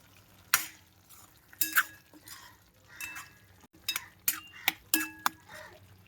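Chillies frying in hot oil for a Gavran-style mutton kharda, a soft sizzle under sharp metallic clinks and scrapes of a spoon stirring against the pan, irregular and close.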